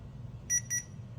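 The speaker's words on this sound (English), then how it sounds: "The CMOS battery beep" A Dell Latitude CS laptop sounds its CMOS battery warning as two short, high electronic beeps in quick succession, clear over a low background hum.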